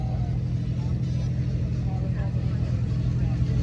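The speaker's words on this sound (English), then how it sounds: "It's that Mustang. Meh. They make a lot of noise" A Ford Mustang engine rumbles low and steady, droning continuously throughout, close and loud, with no clear revving or pauses.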